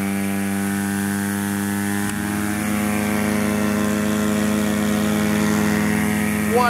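An air-powered liquid mixing system with propellers starts up, its steady loud mechanical drone rising in pitch as the air-driven motors spin up and run continuously.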